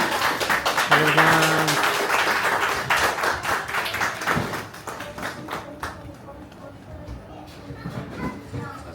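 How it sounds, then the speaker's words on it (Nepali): An audience at a poetry book launch claps in scattered, uneven bursts that thin out into individual claps, with people talking over the start. "एकचोटि सबैजनाले ताली चाहिँ बजाउनु"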